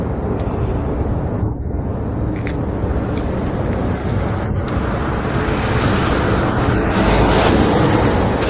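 Wind gusts on a cold snowy winter walk, a loud continuous rush against the microphone that swells toward the end, with no clear voices.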